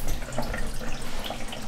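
A photographic print soaks in a darkroom wash tray of water, giving a soft, continuous trickle and gentle sloshing close by, with no voices.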